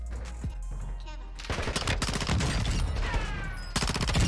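Rapid automatic P90 submachine gun fire in Warzone 2, dense bursts of shots loud and close with short pauses between strings, a quieter stretch near the start and a sharp resumption at the end.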